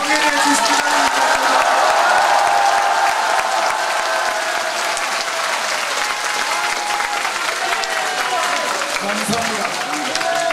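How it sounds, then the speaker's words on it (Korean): A large crowd at a party-founding meeting in the Korean National Assembly gives sustained, even applause lasting over ten seconds, with murmuring voices mixed into the clapping. "힘찬 박수로 강연해 주시기 바랍니다"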